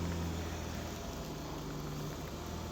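A car engine running after starting on a snowy winter day, a steady low rumble with a sustained hum, close and continuous throughout.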